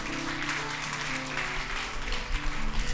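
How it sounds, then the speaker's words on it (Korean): A church congregation claps in praise during a Sunday service, with dense, sustained applause that holds steady for a few seconds and swells slightly toward the end, alone without speech. "이럴 땐 하나님께 박수"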